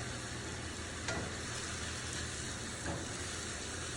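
Peppers and onions frying in a pan for a Philly cheesesteak, giving a steady, dense sizzle that holds at an even level throughout, with a couple of faint clicks of stirring.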